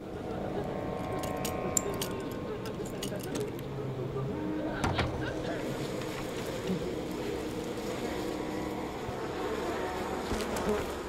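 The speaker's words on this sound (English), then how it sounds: "Is there bees in here?" Bees buzzing inside an area of the video game We Happy Few, a steady insect drone that holds throughout beneath a busy in-game ambience with faint clinks and knocks.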